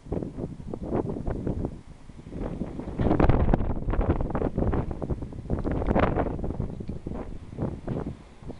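Gusty wind buffets the microphone in strong, irregular rushes on a morning at Bluff, Southland, New Zealand, roaring loudly and then easing, with no voices present.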